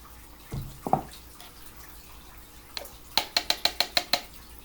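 A teaspoon of baking soda being put into a cup, with a few soft taps and scrapes early on, then a quick run of about six bright, ringing metallic clinks of the spoon against the cup, close and without speech.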